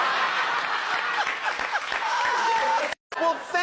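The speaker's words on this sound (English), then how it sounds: "Give Jules a big round of applause." Studio audience clapping on a comedy talk show, a busy wash of hands with bits of crowd reaction, briefly cut off before a voice starts talking at the end.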